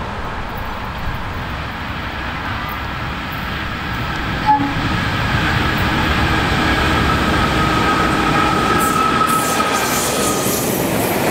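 Heavy KiwiRail DXC diesel locomotives hauling a work train rumble past close by in Feilding, New Zealand, a steady roar of engines and rolling wheels, with a horn sounding faintly near the end.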